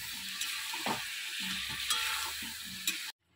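Aloo dum with spices being stir-fried in a pan: a continuous sizzle broken by repeated scraping and stirring strokes of a spatula, close and moderately loud, cutting off abruptly at the end.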